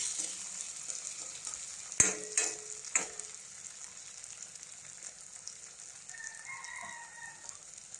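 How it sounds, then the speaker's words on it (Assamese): Steady sizzling of vegetables and boiled potato frying in a pan for veg fried rice, with a few sharp clanks of a utensil stirring near the start and faint background sounds. "আৰু এইখিনিতে ভালকৈ ভাজি ল'ম।"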